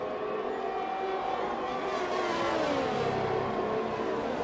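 In a racing video game, a race car's engine whines and climbs in pitch during an overtake. The sound is smooth and sustained at moderate level, with a faint voice underneath.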